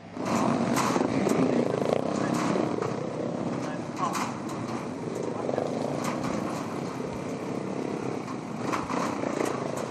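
Motocross bikes at the 2019 MXGP of Germany ride out onto the circuit for a sighting lap before qualifying, engines droning and revving at a distance under continuous commentary.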